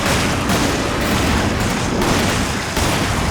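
Constant loud gunfire during a Resident Evil 5 boss fight against Excella, a dense, continuous barrage of shots and booms with no gaps, close and filling the whole moment.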